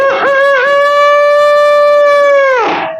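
A voice imitates a rooster crowing for children during an Indonesian storytelling session, one long loud sustained call with a rising start and falling tail, close and alone.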